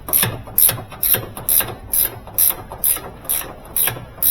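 A ratchet wrench clicks in a steady rhythm of about ten quick bursts while a bolt is loosened on a Samsung washing machine, close and crisp with no talking.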